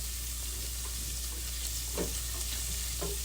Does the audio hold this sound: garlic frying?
yes